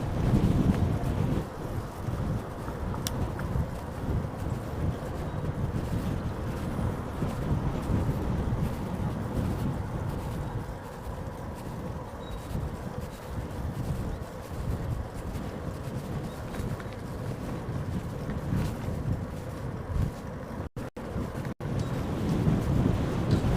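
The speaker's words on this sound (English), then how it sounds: "Where's the wind coming from?" Strong wind buffets the microphone on a South Korea bike tour near Pohang, a loud continuous roar with low gusty rumble throughout and no talk.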